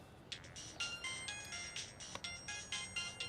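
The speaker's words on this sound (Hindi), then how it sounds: "किसका फोन है?" A mobile phone ringtone plays a bright repeating electronic melody in short pulsed phrases, fairly quiet, with no talking over it.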